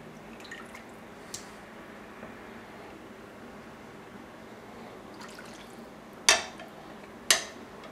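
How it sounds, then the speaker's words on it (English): Goulash broth scooped out of a slow cooker, with faint liquid trickles and drips followed by two sharp clinks of a utensil against the pot near the end. "Take out some of the liquid again."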